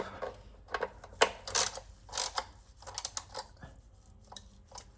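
Transmission bolts being lightly tightened by hand with a torque wrench, a string of close metallic ratcheting clicks and clacks in irregular bursts over several seconds, with no voices.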